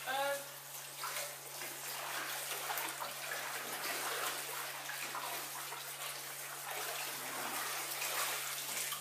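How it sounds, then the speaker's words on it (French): Milk for tomme cheese at 32-33 degrees being stirred after yeast is added, a continuous watery swishing and sloshing close by, steady throughout with faint background talk. "Alors une fois qu'on met les levures, je mélange."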